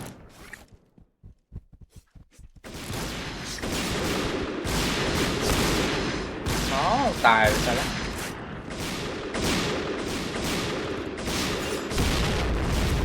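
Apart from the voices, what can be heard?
sniper rifle gunfire in video game Point Blank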